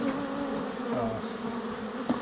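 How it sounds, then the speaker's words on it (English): Aggressive honeybees swarm around a hive, a dense, close, continuous buzzing drone with individual bees whining past, steady and loud throughout without any talking. "if the bees are aggressive, which they are right now"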